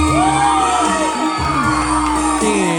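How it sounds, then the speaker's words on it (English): A dense crowd cheers and whoops loudly and without a break, with a person screaming somewhere in the mix and shouting voices rising and falling throughout. "That's me screaming, yeah"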